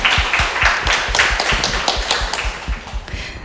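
An audience applauds at a live radio talk show recording, a brisk run of close, dense hand claps that holds steady for a few seconds with no voices.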